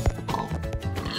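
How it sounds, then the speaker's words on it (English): Pigs oinking in the Minecraft video game, a short burst of game-animal grunts close up with no talk over them. "Let me just get these pigs and stuff."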